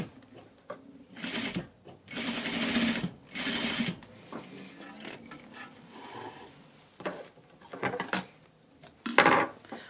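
A home sewing machine stitching a waistband onto pants, heard in short bursts of whirring stitching separated by pauses, soft fabric handling and small clicks, fairly close and moderately quiet.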